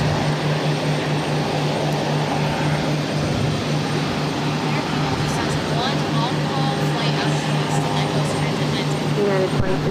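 United flight 2067, an airliner, takes off on runway 22 right at Boston Logan, its engines a steady, loud roar that holds through the whole stretch.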